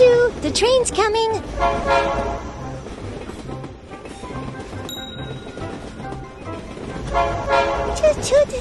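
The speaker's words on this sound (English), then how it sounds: "Choo-choo, the train is coming." A toy train horn toots high and bright during children's doll play at a pool party, the short toots standing out amid lively talking and play noise.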